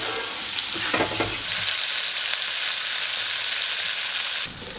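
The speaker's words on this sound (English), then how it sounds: "we're just gonna let those cook in that butter real gently." Green beans cooking gently in butter in a pan, a dense, even sizzle that fills the clip, with a few brief stirring knocks early on and no speech.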